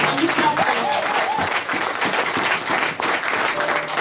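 A church congregation bursts into sustained, dense applause and cheering that fills the room steadily from start to finish, with voices mixed into the clapping.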